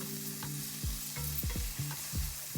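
Soup mix being stirred into a pan of creamy chicken spaghetti: repeated scraping strokes of a utensil against the pan, roughly one every third of a second, over a constant sizzle.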